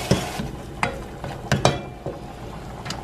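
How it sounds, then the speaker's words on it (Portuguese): Garlic and onion sauté in oil in a pan over low heat, a soft continuous sizzle broken by a few sharp scrapes and knocks of stirring, fairly quiet and close. "Agora eu vou colocar o alho e a cebola para refogar."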